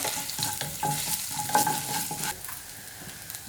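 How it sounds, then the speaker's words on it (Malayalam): Small ginger pieces frying in oil for vegetable oats upma, with a steady close sizzle and repeated spoon scrapes stirring the pan, no voices. "ചെറിയ കഷ്ണം ഇഞ്ചിയില്ലേ അതിട്ട് കൊടുക്കാം"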